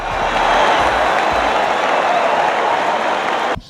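Crowd of 15,400 basketball fans cheering and applauding inside Carver-Hawkeye Arena during an Iowa Hawkeyes home game against Michigan, a loud, dense roar of clapping that holds steady and then cuts off abruptly.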